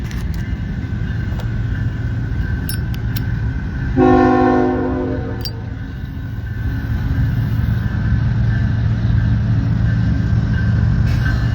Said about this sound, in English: First train since I got here. There is a westbound manifest coming.